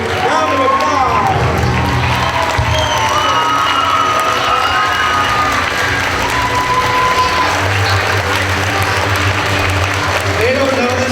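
Children at an elementary school awards assembly cheer, whoop and applaud together, a loud, continuous crowd roar that fills the whole stretch without letup.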